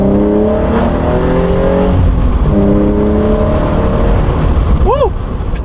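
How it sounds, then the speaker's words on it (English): A modified BK1 Hyundai Genesis Coupe with a naturally aspirated 3.8 V6 and aftermarket exhaust pulls hard in first gear, loud and close, engine note climbing through rising revs with a quick shift and a short tire chirp near the end. "There's not many better sounds than like a naturally aspirated, bolted on V6 with a nice exhaust."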